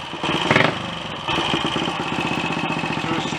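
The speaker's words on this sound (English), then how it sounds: "to a steady-ish tick over pretty much straight away, rather than that terrible overrunning that it did earlier" Royal Enfield Olympic 250 motorcycle engine with a freshly rebuilt top end settling to a steady idle, loud and close with an even pulsing beat and a brief blip of revs near the start, no voices.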